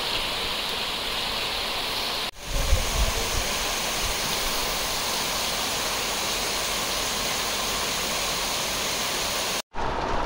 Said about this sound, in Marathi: पाऊस लागतोय